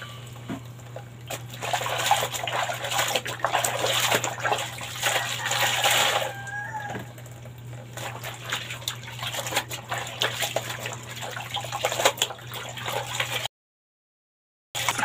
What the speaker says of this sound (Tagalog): Ganito si presyon ng tubig.